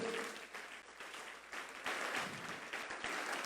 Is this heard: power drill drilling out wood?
no